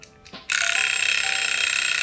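A workshop countdown timer hits zero and starts ringing: after a soft click, a loud, continuous rapid electronic trill begins and keeps going, close and alone.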